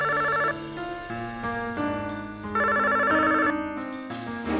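A telephone plays a loud, continuous electronic melodic ringtone with sustained tones that shift in pitch over several seconds.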